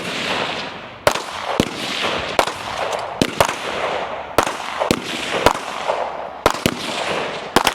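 Rifles fire during an elite men's shooting competition stage at the 2024 North Carolina Regionals: about a dozen loud, sharp cracks in an irregular rhythm, some in quick pairs, each trailing into a short echoing rumble.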